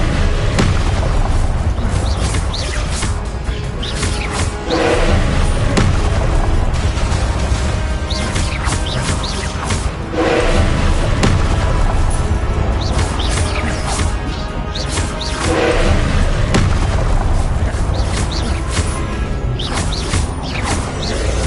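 Repeated booming Confringo blasting-spell explosions sound in the Hogwarts Legacy video game, dense crashing bursts at roughly five-second intervals over continuous loud game noise and music.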